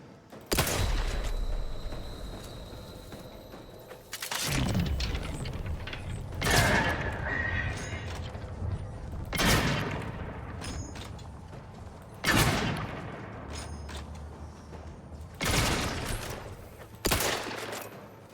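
Gunfire from The Outer Worlds 2 played on very hard difficulty: several loud bursts of shots and booms spaced a few seconds apart, with mechanical clicks and creaks between them and no talking.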